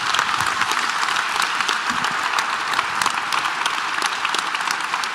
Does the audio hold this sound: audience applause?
yes